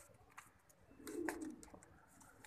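A pigeon gives a soft, low coo in a quiet space, faint and fairly close, with a few light rustles around it.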